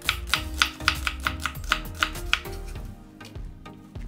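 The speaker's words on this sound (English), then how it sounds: "Slice half of the onion thinly." A knife thinly slices onion on a cutting board with a brisk, even run of about a dozen sharp taps, close and clear, before stopping into quiet room tone.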